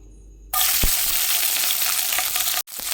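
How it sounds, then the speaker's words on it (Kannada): Green chillies dropped into hot oil in a pan for uppitu set off a sudden loud, bright sizzle that holds steady, with a brief break near the end. "ಆಯಿಲ್ ಬಿಸಿ ಆಗಿದೆ. ಇದಕ್ಕೆ ನಾನು ಫಸ್ಟಿಗೆ ಹಸಿಮೆಣಸಿನ್ಕಾಯಿ ಹಾಕ್ಕೊಳ್ತಾ ಇದ್ದೀನಿ."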